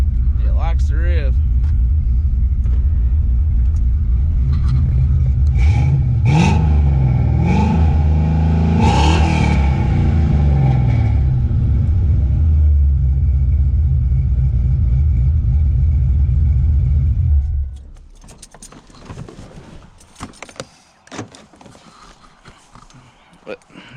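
A 2003 Ford Mustang GT fitted with a stage 2 cam revs loud and close for about 17 seconds, its lumpy idle swelling through repeated throttle blips before cutting off, leaving only faint background sounds.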